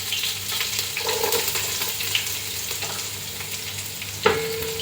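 Chopped garlic and ginger sauteing in a pot for one-pot pulao, a continuous close sizzle with occasional stirring scrapes and a sharp clink of utensil on metal near the end.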